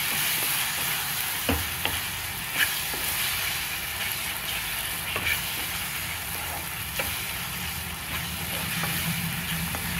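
Papaya fries slowly over a low flame for halwa, giving a constant gentle sizzle with occasional scraping strokes and light clicks of a spoon, steady and moderately loud for ten seconds.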